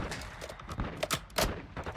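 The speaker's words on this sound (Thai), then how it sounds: "เสียงปืนเพียบเลย" Rapid bursts of gunfire popping at a moderate distance in Call of Duty: Warzone 2.0, several quick shots in a row with a busy background, including mortar fire.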